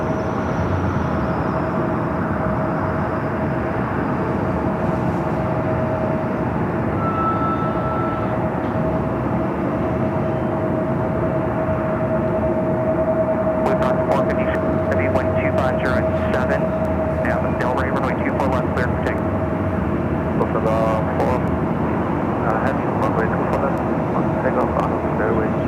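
Passenger airplane taking off down runway 24 Left at Los Angeles International Airport, a steady broad engine roar building through the clip with a sustained whine, heard from a distance under faint background noise.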